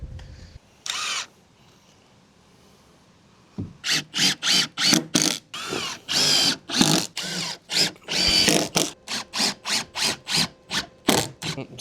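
A power drill drives screws into a wooden shed ramp in a rapid run of short, loud, closely spaced bursts, after one brief burst and a quiet pause near the start.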